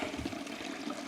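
Hands splash and churn in freezing water beside a dug-out clay fire pit at a camp, a continuous close sloshing and trickling with no speech.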